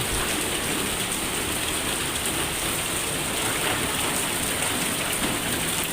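Heavy rain blows in and splashes over seats under a dome at an outdoor show venue, a dense, loud, unbroken hiss with no break for six seconds.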